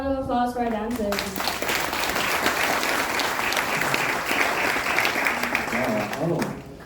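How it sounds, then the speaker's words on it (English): A live audience at a Polynesian Cultural Center Hawaiian village show applauds hula dancers, with dense, sustained clapping for several seconds. A voice is heard briefly at the start and again at the end. "How about a round of applause for our dancers?"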